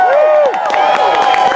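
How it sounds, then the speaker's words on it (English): Crowd cheering and whooping at an opening ceremony, loud and close, with a sustained ringing tone under scattered shouts and applause. "Keep the cheering going."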